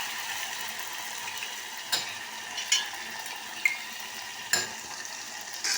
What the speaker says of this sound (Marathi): ते छान असं परतून घेऊया, त्याचा कच्चेपणा जायला.